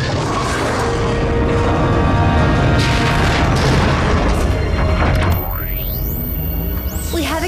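A cartoon rocket ignites with a loud, booming roar that holds steady for several seconds before it cuts away, then rising whooshing sweeps follow as the craft lifts off.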